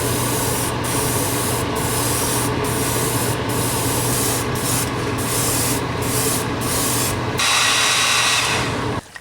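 Spray paint hisses steadily as opaque yellow is coated over a topwater crawler fishing lure, with short breaks between passes and a louder final burst, close and unbroken by talk.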